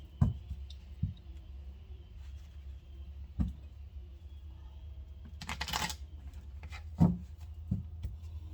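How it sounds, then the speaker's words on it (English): Tarot cards are shuffled by hand with soft rubbing and a burst of riffling midway, plus scattered sharp taps and clicks in a quiet room. "Please give me one shuffle, please, for Pisces."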